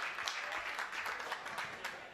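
Football fans in a stadium at a Seattle Sounders versus Portland Timbers U.S. Open Cup match applaud in a broad, steady wash of distant crowd clapping, faint beneath a commentator's voice.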